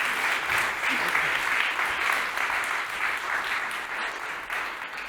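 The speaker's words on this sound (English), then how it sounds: "Big applause, stage is yours." Sustained audience applause at a motor industry conference as a presenter takes the stage, a full, steady roar of clapping that eases slightly near the end.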